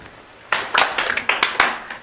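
A handful of sharp handclaps from a small group, scattered and slightly uneven over about a second and a half, with no talking.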